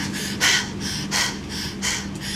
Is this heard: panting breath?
yes